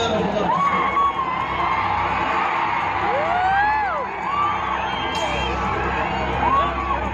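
A large rally crowd in Palakonda awaiting Pawan Kalyan's arrival, loud continuous cheering with whoops and rising shouts layered over a dense roar of voices, staying close and intense throughout.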